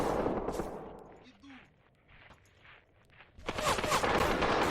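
Distant machine gun fire in the war game Graviteam, a burst of rattling shots at the start and again near the end, with a quieter stretch between them.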